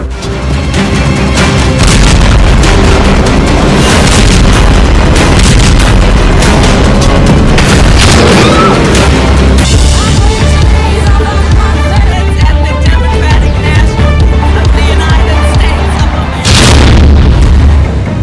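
Heavy bombing explosions boom continuously and loudly, with deep rumbling blasts and crashing bursts layered densely throughout and a strong, sustained low-end roar.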